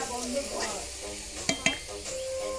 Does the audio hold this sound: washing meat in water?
no